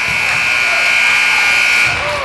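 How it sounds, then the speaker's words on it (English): A basketball game buzzer blares at the end of the first half of a high school game in a gym, one steady loud electronic tone lasting about two seconds before cutting off. "The shot is no good, and the buzzer sounds."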